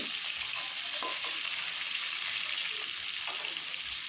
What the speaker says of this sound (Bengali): ভালো মতো গরম হয়ে গেলে আমি এক এক করে মাছগুলোকে আমি ভেজে দেবো।